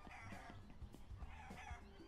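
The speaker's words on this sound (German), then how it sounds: "ich höre die ganze Zeit Hühner" Chickens cluck continuously in a school-themed video game, busy overlapping clucks and fowl calls forming a steady, fairly faint background with no speech.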